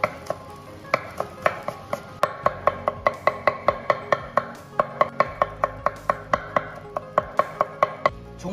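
Knife rapidly mincing sand ginger on a cutting board, a long run of quick, even chops in steady bursts, close and crisp, with no talking.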